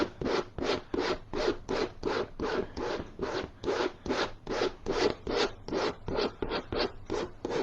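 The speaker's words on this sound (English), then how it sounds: "I'm scraping out as much of the paint as I can remove from the canvas." A scraper drags paint off a canvas in steady back-and-forth strokes, about two per second, loud and close, harsh rasping with no talking.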